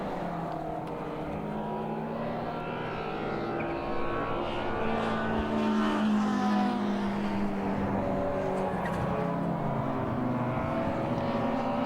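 Classic touring race cars, including BMWs, race past at Thruxton circuit, their engines a continuous loud roar with overlapping pitches that swell and fade as the cars go by.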